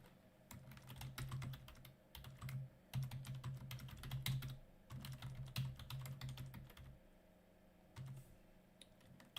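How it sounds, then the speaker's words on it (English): Quick bursts of typing on a computer keyboard, with rapid clicking keystrokes in short runs and pauses, close and quiet, with no talking. "Let me just type that in real quick."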